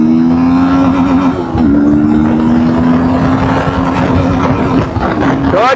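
Fast 300cc motorcycle accelerates hard through the gears, its engine note climbing steadily with brief dips at each shift, loud and close throughout.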